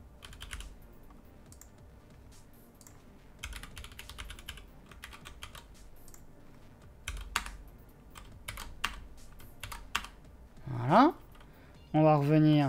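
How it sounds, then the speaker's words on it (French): Rapid clicking of a computer keyboard being typed on in bursts, close up, with a voice speaking briefly near the end. "Le clavier ce soir, il a décidé de me casser les pieds"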